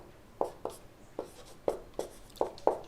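A pen or chalk writes out a mirror image-formation rule, giving seven short, distinct scratchy strokes at an uneven rhythm, close and clear against a quiet background.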